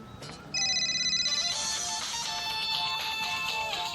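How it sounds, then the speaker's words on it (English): A phone ringtone chimes up suddenly over a faint background hiss, playing a busy, bright electronic melody at moderate volume with no talking. "Nice ringtone."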